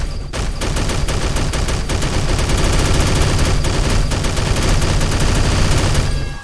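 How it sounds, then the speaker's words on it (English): Heavenly Blade sword effect from the Roblox game Blade Ball, a dense, loud barrage of rapid crackling bursts and booming impacts that runs continuously without pause. "So we have the normal heavenly blade, and it sounds like this,"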